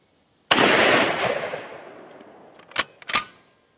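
A single loud close shot from a .458 Lott Mauser bolt-action hunting rifle blowing up a melon outdoors, its sharp crack rolling into a long decaying boom, followed by two shorter sharp knocks.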